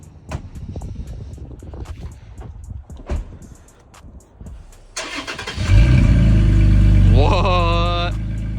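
Wind buffets the mic and voices talk before a Toyota Tacoma with an aftermarket Amazon exhaust cranks and fires up, settling into a loud, deep idle with a brief rev.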